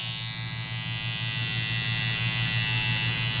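A steady, close electric buzz from a beard trimmer whose blade is not gapped, its corner shaping a man's beard, runs unbroken and fairly loud with no talking.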